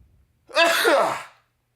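A single close, forceful sneeze bursts out after a brief quiet, alone and loud, ending abruptly.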